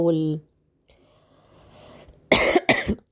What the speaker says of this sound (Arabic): سوري يعني ان انا بكح وكده عشان انا تعبانة